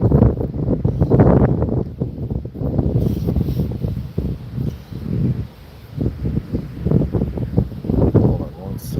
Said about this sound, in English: Guys, it's so windy out here.